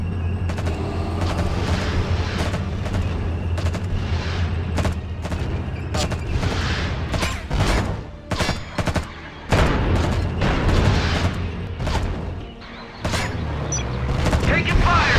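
Rapid bursts of gunfire and heavy booming explosions from the real-time strategy game Act of War, dense and loud throughout with brief lulls, under short radio-style unit voice lines.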